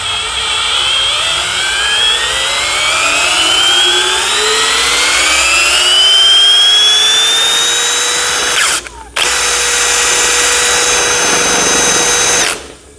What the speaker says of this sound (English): just spin it up with a drill